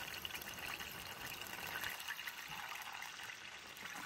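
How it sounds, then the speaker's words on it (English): Red wine vinegar poured out while cooking by a mountain lake, a soft, close liquid trickle lasting a few seconds, with the flow thinning partway through. "that red wine vinegar, salt, pepper."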